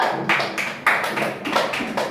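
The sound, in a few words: children clapping for a classmate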